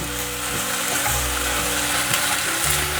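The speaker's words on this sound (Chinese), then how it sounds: "把豆腐的水分炒干。" Crumbled tofu fries dry in a pan with turmeric and rose salt, a dense continuous sizzle close by, with a low steady hum beneath and light stirring scrapes through the frying.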